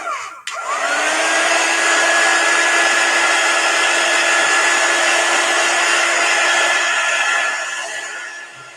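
A hair dryer blows steadily and loudly at close range over a chalk transfer on a board, switching on with a brief click, then holding a constant whirring hum with a faint whine before easing slightly at the end.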